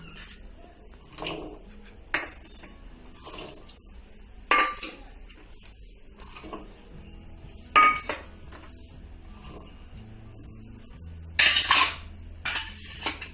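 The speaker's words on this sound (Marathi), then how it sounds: "आता सगळं साहित्य आपण एकत्र करून घेऊया" Metal spoons clink and scrape against a steel bowl as mixed pickle ingredients are combined, sharp bright clatters arriving in irregular bursts with quieter stirring between them.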